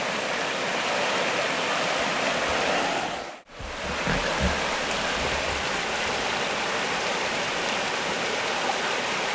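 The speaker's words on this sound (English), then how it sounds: "I think that's cool how the water flows down like through all here." Water flows down a stream at a camping spot, a steady broadband rush that continues throughout, broken by a brief dropout near the middle.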